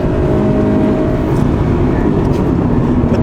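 Engine of a 2017 Subaru BRZ while driving, a steady raucous drone with constant road and cabin rumble throughout, close and loud, no voices.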